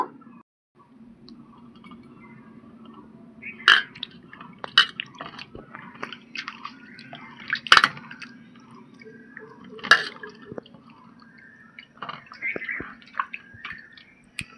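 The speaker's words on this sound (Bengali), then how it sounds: "এখন আমগুলো আমি খুব ভালো করে ধুয়ে নেব" Raw mangoes washed in water by hand, giving scattered close splashes, drips and wet squishing handling sounds, with a few louder sloshes between quieter stretches.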